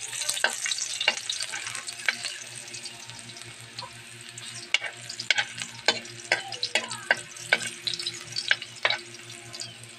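Garlic sizzles steadily in hot oil with crackling pops and the scrape of stirring, close by, with no talking.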